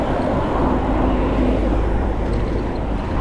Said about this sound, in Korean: 이거 차가 이렇게 쌩쌩 달리는데